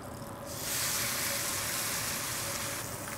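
A tomahawk steak sears with fresh thyme in a hot pan, making a soft hiss that swells after half a second into a steady, fairly faint sizzle.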